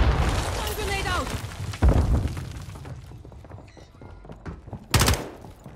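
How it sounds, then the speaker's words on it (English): Grenade explosions and gunfire in a Call of Duty match: sharp booming bursts near the two-second and five-second marks cut through continuous gunfire, with excited voices talking over the action. "One grenade out!"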